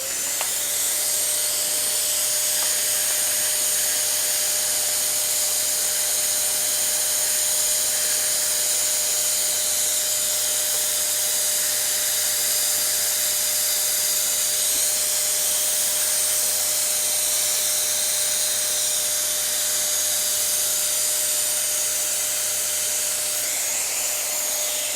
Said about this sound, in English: I'll get my trusted little apprentice here to turn the vacuum on